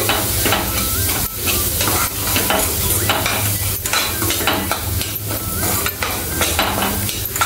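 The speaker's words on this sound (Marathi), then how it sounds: "पुन्हा एकदा आपल्याला सगळं हे तळून घ्यायचं आहे तेलामध्ये" A spiced mixture of cumin powder, coriander powder and homemade masala fries noisily in oil in a pan, with a steady close sizzle and repeated scraping and clinking of a spoon stirring against the metal.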